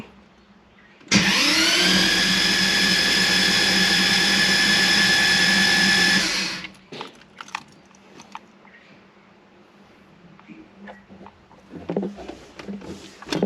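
A Toyota Supra with a 2JZ engine cranks on its starter motor in a loud, steady whirring drone lasting about five seconds, then cuts off, leaving quiet workshop shuffling and faint knocks.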